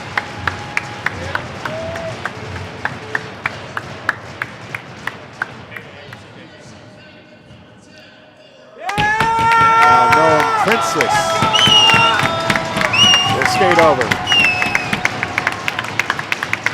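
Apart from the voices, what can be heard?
crowd cheering at ice hockey game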